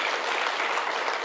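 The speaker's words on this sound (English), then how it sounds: "Let's give him a round of applause." Audience applause at a stakeholder workshop on financial investigations, a steady dense wash of clapping filling the room at moderate level, with no speech over it.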